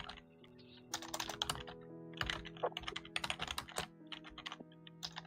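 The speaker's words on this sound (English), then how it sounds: "Your typing's loud." Close, crisp typing on a computer keyboard comes in irregular bursts of quick key clicks with short pauses between them.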